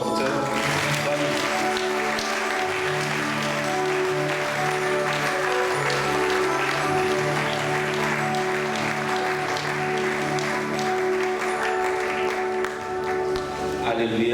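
A church congregation applauds to welcome a doctor to the pulpit: a dense, continuous wash of clapping that lasts throughout, with voices and musical tones mixed in.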